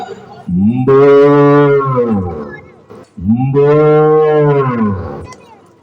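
A voice imitates a cow's long, low moo twice, each call drawn out for about two seconds with a short pause between them.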